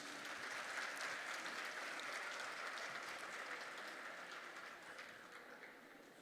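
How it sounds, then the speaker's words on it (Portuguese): A crowd at an opening ceremony applauds, a dense wash of clapping from many hands that is heard alone and fades gradually over about six seconds. "Acho que eles merecem aplausos"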